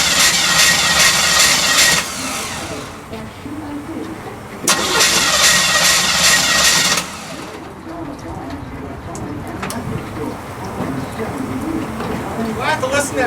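A KITT replica car's engine roars under throttle in two loud revving bursts separated by a quieter idle, with a steady running rumble afterward and people talking nearby.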